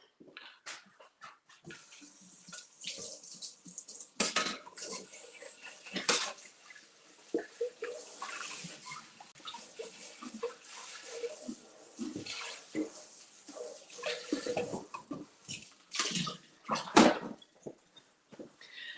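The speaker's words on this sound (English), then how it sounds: "let's rinse this out" Tap water runs and splashes while a container that held butternut squash pie filling is rinsed in a kitchen sink, with clinks of dishes and scattered knocks over about nineteen seconds.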